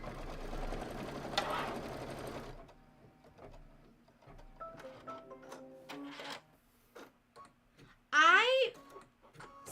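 A sewing machine stitches a quarter-inch seam in a quilting project, a steady mechanical whirr of needle strokes running close for a few seconds, then stopping amid quieter handling sounds and brief talk.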